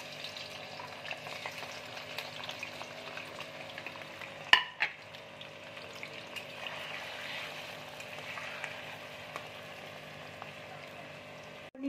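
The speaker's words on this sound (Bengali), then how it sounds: "এবার আমি পনিরগুলো তেলের মধ্যে দিয়ে দিচ্ছি" Paneer pieces fry in hot oil in a wok, a quiet, steady sizzle with a sharp clatter partway through and a few small knocks after, no voices heard.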